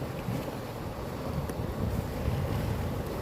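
Steady low rumble of waves and wind buffeting the microphone, with a continuous wash of water noise and no talking.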